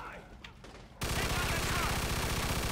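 Sustained machine gun fire in the video game Mafia 2, a sudden dense rattling burst that starts abruptly after a quieter moment and continues loud and rapid to the end.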